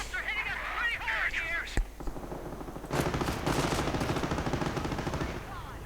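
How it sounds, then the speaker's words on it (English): Heavy machine gun fire in a real-time strategy war game match, heard as dense, sustained rapid bursts from about three seconds on, under battle noise and a commentator's voice. "Heavy machine gun out for Uberninja, quite interesting."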